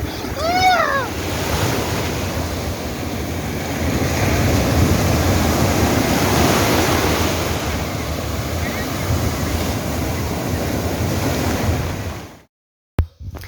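Waves break on the shore at Pulicat beach, a loud continuous roar and wash close by, with bird calls at the start and the sound cutting off abruptly near the end.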